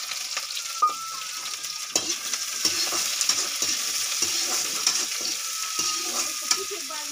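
Green chilies and onions fry in a hot pan, a steady bright sizzle broken by repeated scraping stirs of a spoon, close and without talk.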